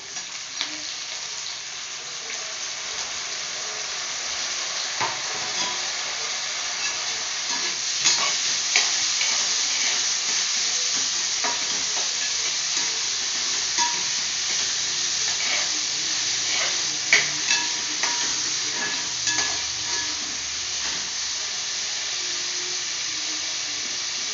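Tomatoes frying in a pan for a home-cooked lunch, a steady close sizzle and hiss broken by repeated scraping stirs, with no talking.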